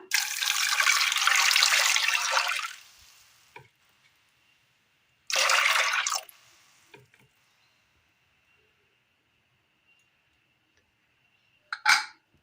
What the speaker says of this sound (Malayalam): ഒരൽപ്പം വെള്ളം ഒഴിച്ചു കൊടുക്കാം.